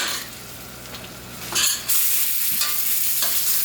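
Pieces of marinated liver sear and sizzle in a pan as a utensil stirs them, with a sharp scraping stir near the middle and steady frying hiss throughout; no talking.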